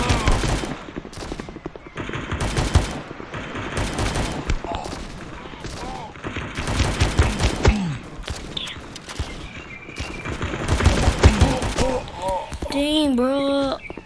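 Rapid gunfire bursts in the mobile shooter game Guns of Boom rattle almost continuously, with repeated shots loud in the mix while a player talks excitedly over it.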